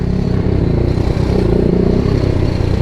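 A BMW G310R motorcycle's loud exhaust rumbles close up, a rough, clattering engine note holding steady throughout.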